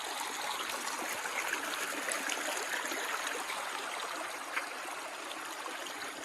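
A stream flows along a hiking trail on the Foothills Trail, a steady close rushing and trickling of water that runs unbroken throughout with no voices.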